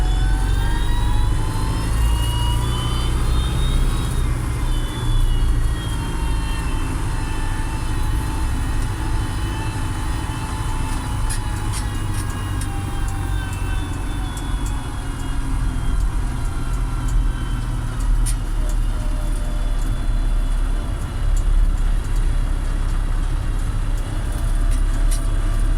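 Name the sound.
tractor engine running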